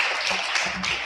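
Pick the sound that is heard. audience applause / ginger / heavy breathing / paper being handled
audience applause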